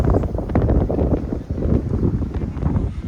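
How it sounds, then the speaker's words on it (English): Strong wind buffeting the microphone on a foggy, windy day at Avon, a loud continuous rumble with gusty surges and no clear talking. "Foggy because it's a windy day."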